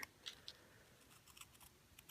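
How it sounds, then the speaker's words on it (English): Snips or scissors cut through paper while a tea light gift box is trimmed, giving a few short, crisp snipping clicks spaced apart, fairly quiet and close, with a sharper final snip at the end. "I'm going to grab my snips, scissors right here."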